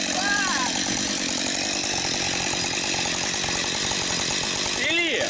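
A chainsaw cuts firewood with a steady, buzzing whine at close range, and a brief revving swell near the end, with a loud engine drone filling the clip.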